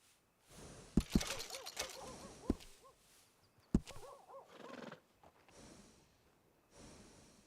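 A horse in Red Dead Redemption 2 whinnies and snorts close by, with sharp hoof clip-clops and shuffling between several drawn-out neighs, no talking.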